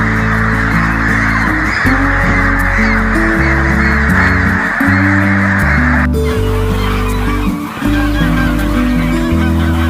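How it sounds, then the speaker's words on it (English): A flock of Pilgrim geese honks loudly and nearly nonstop on a goose farm, overlapping calls rising and falling in a dense, close chorus with no voices. "Pilgrim geese,"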